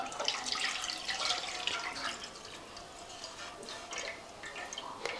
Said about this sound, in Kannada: ಈಗ ಇದು ಕಲಸಿದ್ದು ಹಾಕೋತೀನಿ ನೋಡಿರಿ.